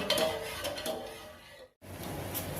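Light scraping and clinking of a utensil stirring sugar and water in a pan for lemon syrup, steady and close, with a brief silent gap near the end.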